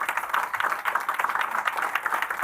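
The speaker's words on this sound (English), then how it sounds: "I'd like to ask the audience to give a nice round of applause to Magic." A conference audience at the Tallinn Digital Summit claps in a dense, even patter of applause that continues throughout.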